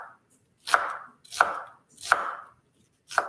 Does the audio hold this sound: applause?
no